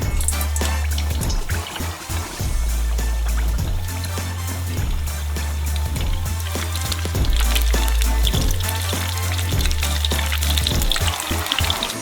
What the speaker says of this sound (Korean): 예열되면 미니 피자를 투하해서 튀겨주세요.